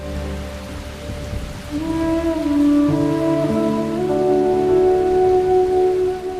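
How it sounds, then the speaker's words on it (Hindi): Heavy rain pours steadily in a television drama scene, a constant hiss beneath swelling sustained music, with no distinct thunder. "बहुत तेज बारिश हो रही है"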